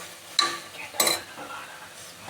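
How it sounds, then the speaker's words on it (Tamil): A curry is stirred in a pan with garam masala, fennel, turmeric and chilli powders, a utensil scraping and clinking against the metal with faint sizzling underneath, in a few soft strokes close by. "இதெல்லாம் போட்டு நல்லா கிண்டிக்கணும்"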